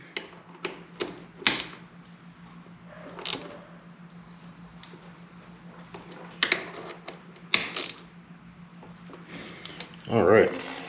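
Ratchet wrench clicking as bolts are tightened on a 2023 BMW S1000RR motorcycle during a ceramic bearing install, with short bursts of ratcheting spaced across the clip over a steady low hum; no speech.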